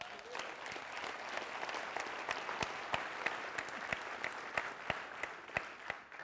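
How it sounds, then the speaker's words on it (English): At a college district's fall convocation, an audience applauds a chancellor's address, steady moderately distant clapping with a few sharper individual claps standing out over about six seconds. "Isn't that worthy of applause?"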